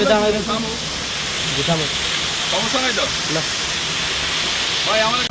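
The Jhorojhori waterfall at Sitakunda, Chittagong, gives a steady, full rushing hiss heard from close by at the top of the falls, with people talking over it throughout.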